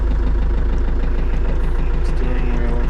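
A tractor engine idles steadily after a remote-control start, a close, loud, even diesel throb with a regular low pulse and no voices.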